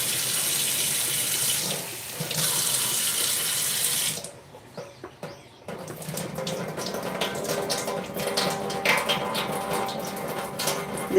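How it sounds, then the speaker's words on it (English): Fresh green chickpeas being washed under running tap water, a steady broadband rush of flowing water that pauses briefly partway through, then resumes with sloshing and splashing as the chickpeas are handled. "Around 2 to 3 times you need to wash them."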